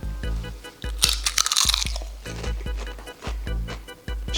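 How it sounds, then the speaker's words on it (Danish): Crunchy homemade snack food being chewed close to the mic: a steady series of loud, crisp crunches with a short cluster of sharper cracks partway through. "Okay, der er i hvert fald knas på."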